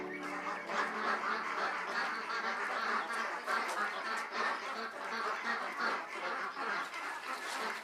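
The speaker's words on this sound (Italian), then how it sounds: "Le anatre chiamano impazienti e affamate." A flock of hungry ducks waiting to be released into a rice paddy quack loudly and continuously, many overlapping calls forming a dense, close chorus.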